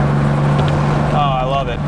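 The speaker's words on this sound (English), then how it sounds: "second gear, third gear, no funny sounds from the rear end. Fourth." A 1990 Mustang Saleen engine hums steadily at a near, constant pitch, then drops as the gear changes, with a short tonal whine following; a person talks over it.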